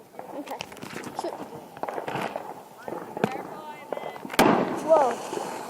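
TNT fireworks set off outdoors on the Fourth of July, with repeated pops and crackles through the stretch and a louder burst near the end. People talk over them.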